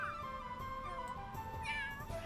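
Cats meow in The Sims 3, with a few soft, drawn-out cries over a steady, quiet bed of game sound.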